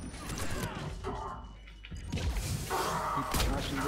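A door being smashed during Mass Effect 3 co-op play: rough crashing, thumping hits over about four seconds, mixed with dense game noise and mechanical clatter, louder toward the end.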